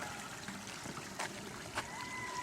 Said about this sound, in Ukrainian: тут у нас є каналізація і тече вона в нас